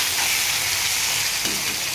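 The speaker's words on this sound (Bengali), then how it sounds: "নুন দেওয়ার পরে ভালোভাবে ভেজে নিচ্ছি।" Steady sizzling of salted tomatoes frying in a pan, a continuous bright hiss with a faint clatter near the end.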